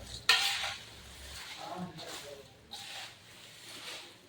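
Poha being mixed by hand with curry leaves and salt in a bowl, a soft, faint rustling and scraping with a sharp clink at the start, heard alone in a quiet home kitchen.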